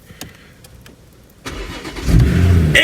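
A rebuilt BMW X3 M40i engine starts after a few faint clicks. It catches suddenly, settles into a running hum and then swells louder as it revs, heard close up.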